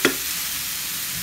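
Onions browning with meat in a pan sizzle as a steady, fairly loud hiss throughout, with a brief stirring scrape at the start.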